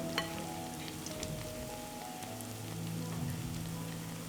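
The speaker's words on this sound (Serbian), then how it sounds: "razvučemo što više može i spuštamo u vrelo ulje" Stretched mekike dough frying in hot oil, a steady crackling sizzle with fine popping bubbles that holds at an even level throughout, with no talk over it.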